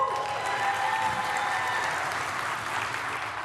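An audience at a school district state-of-the-schools address claps in sustained, even applause that fills the room at a steady level from start to finish.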